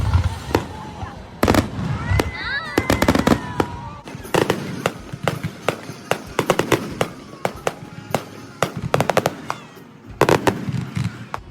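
A fireworks display fills the air with a rapid, irregular series of sharp bangs and crackles, some loud and close, some fainter, with high whistles early on and people talking among the crowd.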